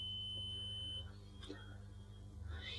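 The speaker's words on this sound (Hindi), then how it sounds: "आप देख सकते हैं अलार्म बज रहा है, मतलब ये कनेक्शन आपका सही है।" A continuity-test alarm buzzer on a four-source power supply control kit sounds a steady high-pitched tone for about a second and then cuts off, leaving a low electrical hum and faint handling noise.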